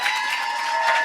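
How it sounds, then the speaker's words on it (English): A live audience at a podcast show gives a round of applause, a brief, steady roar of clapping and crowd noise at even loudness. "Give yourselves a round of applause for making it out."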